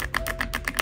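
Clicky keystrokes on an AULA F75 wireless mechanical keyboard, a quick uneven run of about six sharp close clacks with no talking.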